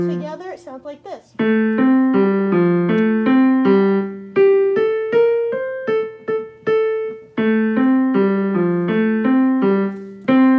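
Piano playing a beginner piece with both hands together in unison, a steady run of clear, evenly spaced notes moving up and down over about ten seconds after a brief opening chord, solo and close with no talking.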